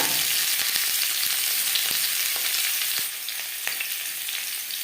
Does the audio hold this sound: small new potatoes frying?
yes